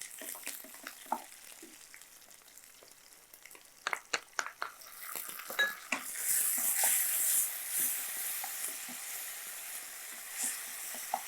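Sliced onions, curry leaves and tomatoes frying in extra oil in a pan for okra podimas, a steady sizzle that swells louder partway through, with scattered clicks and scrapes of stirring.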